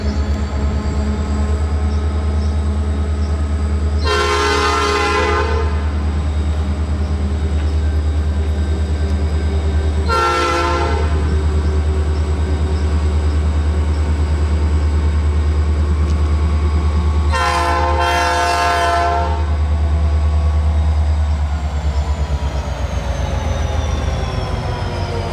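A Norfolk Southern freight train in Ohio rumbles past steadily and loudly, with three long horn blasts sounding over the continuous rolling of the cars.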